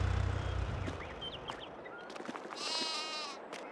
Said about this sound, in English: We have the sheep pasture here on the hillside.